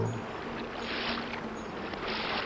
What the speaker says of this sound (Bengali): তখনই হঠাৎ যেন তার কানে এলো গার বাওয়ার শব্দ